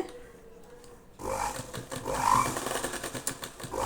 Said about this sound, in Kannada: ಇದನ್ನು ನಾವು ಸ್ಟಿಚ್ ಮಾಡ್ತಾ ಬರಬೇಕಾಗತ್ತೆ